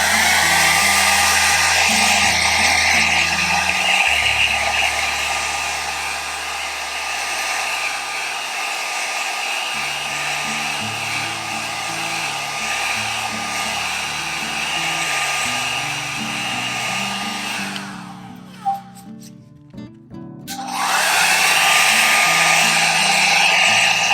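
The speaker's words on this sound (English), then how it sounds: "let me grab my hair dryer and I will just quickly dry it" A hair dryer blows steadily to dry paint on an art project, a loud, continuous whirring hiss that drops out briefly for about two seconds near the end before starting up again.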